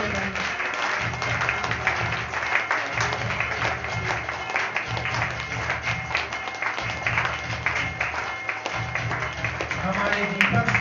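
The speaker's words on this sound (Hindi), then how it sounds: "बजाओ ताली, 2 मिनट और बजाएं।" Continuous clapping from an audience at a Diwali lamp-lighting gathering in a Gita study hall in Purani Tonk, steady and dense throughout with talk mixed in.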